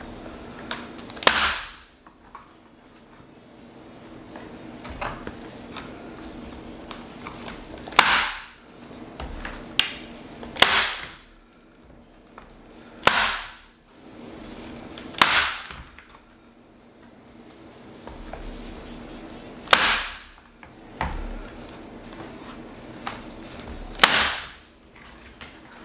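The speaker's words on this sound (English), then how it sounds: "I'm going to staple these on" Staple gun fastening pieces onto a Dollar Tree Halloween porch sign, about seven loud sharp snapping shots spaced a few seconds apart, with faint handling noise between them.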